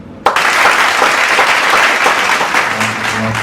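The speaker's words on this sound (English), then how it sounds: "let's give a round of applause for them" A crowd bursts into loud, dense applause for a champion football team, starting abruptly and holding as a steady roar of clapping, with a faint voice low underneath near the end.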